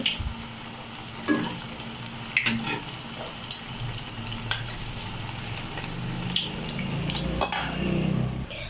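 Cabbage vada frying in hot oil in a pan, a steady dense sizzle throughout with occasional light scrapes and taps as the fritters are flipped to the second side, close and continuous with no talking.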